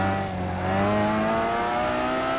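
Roadster race cars in Gran Turismo 5 during an endurance race, a continuous loud engine drone with rising harmonic pitch as the cars accelerate, heard alone without talk.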